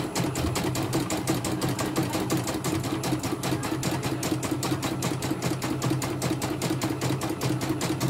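A computerized embroidery machine being serviced runs steadily, its needle hammering in a fast, even rhythmic clatter over a mechanical hum, close and continuous, with no voices.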